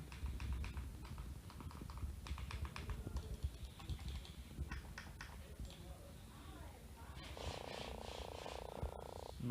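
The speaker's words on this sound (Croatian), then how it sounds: "zvukovi klikanja" A CM Storm Sentinel Advance II gaming mouse clicks in quick, irregular runs of sharp, close taps, with a few longer stretches of clicking over a steady low background rumble.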